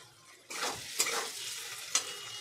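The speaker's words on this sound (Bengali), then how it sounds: "পনিরটাকেও কিন্তু আমি হালকা একটু ভেজে নেবো।" Paneer being lightly fried in a pan while a Bengali meal cooks, a steady broadband sizzle with a few sharp clicks of utensil stirring, close and moderately loud, no talking.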